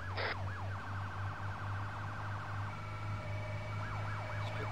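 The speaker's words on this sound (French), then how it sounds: "Je peux couper les sirènes." Police car siren wailing continuously, rising and falling sweeps over a steady low engine hum, loud and close with no talk, a brief high burst at the start.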